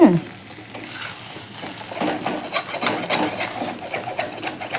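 Raw banana slices fry in oil in a cast-iron pan, giving a close, crackling sizzle. It is broken by scraping, rasping stirs that repeat unevenly, and the sound builds after a quiet opening.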